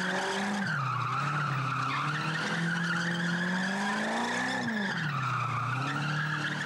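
Car tires squeal continuously in a sustained, loud skid, the pitch wavering and dipping as the vehicle slides, with an engine drone beneath and no talking.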